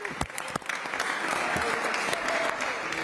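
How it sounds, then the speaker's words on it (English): Crowd applause at a boxing press conference for security staff, dense clapping building from scattered claps to sustained loud applause with cheers mixed in. "Let's just go ahead and give security a round of applause for getting up here and helping us out real quick."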